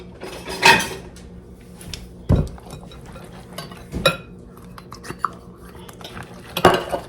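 Cutlery scrapes and clinks against a bowl as ingredients including eggs and salt are mixed together, with several sharp knocks spaced irregularly over quieter stirring.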